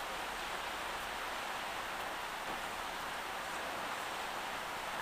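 Rain falling outdoors on a cold day, a steady, even hiss with no other sounds standing out.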